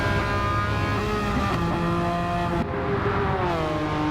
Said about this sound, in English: two Porsches doing battle. GT3 RS and a 997.